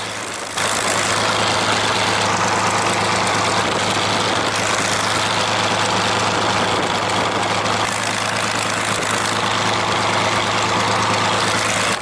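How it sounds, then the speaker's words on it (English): A Curtiss P-40N Kittyhawk fighter's piston engine runs steadily at close range, a loud, continuous rumble with a low droning hum that holds throughout, no voices over it. "as soon as you start the engine in one of these fighters"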